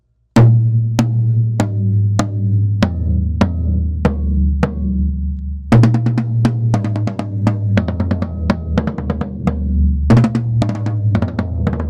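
Tom drums rolled through in a descending run, then a busier fill of rapid hits; the top two toms have tone rings, the bottom two DedHeads muffling, so some ring out while others sound short and dull.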